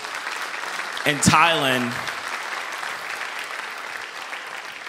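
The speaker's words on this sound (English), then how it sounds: "Can we just give them a round of applause?" Worship service audience applauding missionaries in a dense, continuous wash of clapping throughout, while someone speaks briefly over it near the start.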